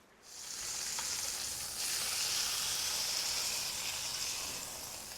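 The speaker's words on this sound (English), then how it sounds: "That's how I want to sear my roast." A pork ribeye roast sears in a pan alongside its trimmings, giving a steady, loud sizzle and hiss that swells after the first moment and holds evenly to the end, with no voices.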